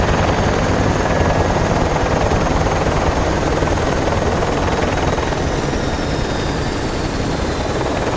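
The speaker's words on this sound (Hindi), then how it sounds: "यहाँ मुझे मेरा हेलीकॉप्टर छोड़ के जा रहा है।" A helicopter in the Project I.G.I video game, a loud, constant rotor roar that thins slightly toward the end as it flies away, with no talk over it.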